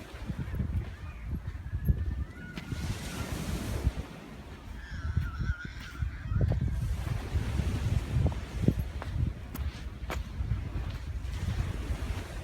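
Waves breaking on Bridlington Beach, a continuous rough wash of surf mixed with gusty wind buffeting the microphone and occasional distant honks.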